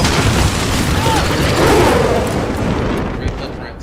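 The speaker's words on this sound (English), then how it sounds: "Enemy precision airstrike" An enemy precision airstrike explodes in a military shooter game, a loud, dense roaring blast that fills the whole clip and slowly fades, with no talk over it.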